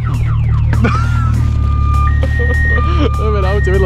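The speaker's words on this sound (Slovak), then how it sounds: "Dobre, na aute vedľa sa zapol alarm z toho." A car alarm sounds from a neighboring parked car, sustained electronic tones that shift pitch and warble, loud over a steady low engine-like rumble, with people talking over it.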